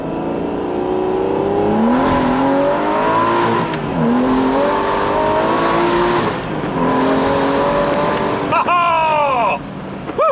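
An Aston Martin V12 Vantage S Roadster climbs a misty hill road in third gear with the rear tyres spinning. The V12 roars loud and close as revs rise and fall through gears, and a short tyre squeal comes near the end.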